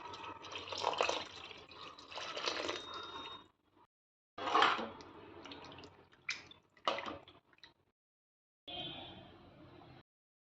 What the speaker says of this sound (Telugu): కొంచెం చింతపండు రసం,